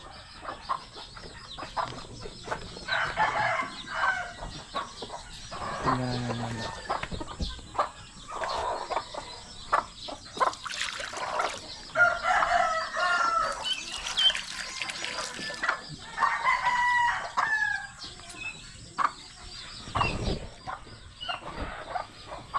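Chickens cluck and squawk nearby in an irregular, busy chorus, with a rooster crowing partway through and other fowl calls scattered across a quiet farmyard.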